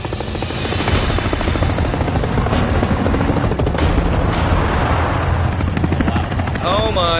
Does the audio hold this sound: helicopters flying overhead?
yes